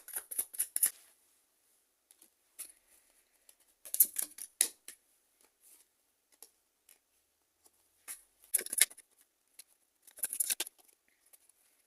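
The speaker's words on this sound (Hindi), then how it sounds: "यहां से ही कार्ड ले लेते हैं" Tarot cards being handled and drawn from a deck, soft papery shuffling and sliding bursts in short irregular clusters separated by near silence, close and fairly quiet, no talking.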